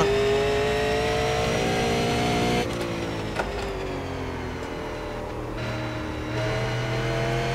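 A Super Late Model race car engine in iRacing at Thompson, a loud sustained drone that dips slightly mid-run and swells again as the revs climb, with a brief clunk partway through.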